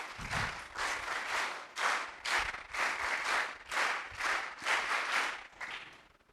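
An audience at an ashram camp claps rhythmically for the teachers, loud group clapping in regular bursts of roughly half a second, repeating steadily before fading.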